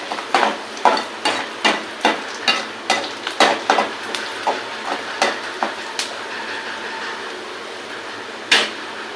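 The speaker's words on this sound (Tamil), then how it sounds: "வெங்காயம் நல்லா வதங்கிடுச்சு." Onions sautéing in a pan for Madras-style prawn thokku: a rhythmic series of spatula scrapes and taps over a bright, steady sizzle, close and clear, with one last louder scrape after a pause.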